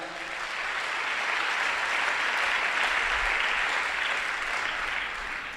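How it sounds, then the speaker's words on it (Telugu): A church congregation claps loudly and steadily for several seconds, a dense, continuous wash of hands with no voices over it. "కొట్టు చప్పట్లు గట్టిగా"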